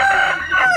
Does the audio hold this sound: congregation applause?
no